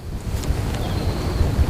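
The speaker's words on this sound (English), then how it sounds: "I think it's supposed to be a little windy today." Wind buffets the microphone outdoors, a low rumbling gusty roar that stays steady for a couple of seconds with no voices.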